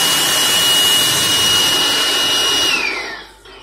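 A Jakmister 700W electric air blower runs steadily with a loud, broadband whoosh and a steady whine, then winds down as it switches off near the end.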